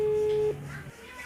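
A telephone tone sounds steadily for about half a second and then cuts off, leaving a quiet room with faint background noise.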